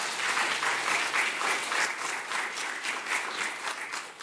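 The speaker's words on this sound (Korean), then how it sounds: "박수 한번 하자." A large audience at a celebration event claps together in a dense, steady round of applause that holds for several seconds before beginning to taper at the end.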